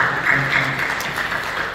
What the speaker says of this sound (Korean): 검단나무를 위해서 박수해주시고